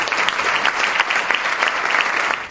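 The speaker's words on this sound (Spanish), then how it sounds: "Recibamos, por favor, con un fuerte aplauso a nuestro compañero José Antonio Torres." An audience at a band's 25th anniversary concert applauds, a dense, even burst of clapping that holds strong and close throughout the short stretch.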